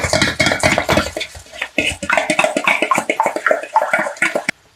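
Three eggs being mixed in a bowl, a rapid run of close clinking, sloshing strokes that keeps up steadily for several seconds and then stops abruptly.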